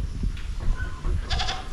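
Goats bleat outdoors on a farm, a few nasal calls over low rumbling background noise, fairly close.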